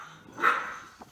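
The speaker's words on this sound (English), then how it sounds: "The dogs like to be the center of attention." A dog gives a single short bark at moderate distance, with a faint yip right after, without any talk over it.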